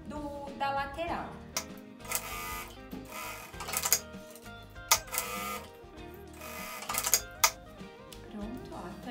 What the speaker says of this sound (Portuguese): a gente vai passar uma costura na parte superior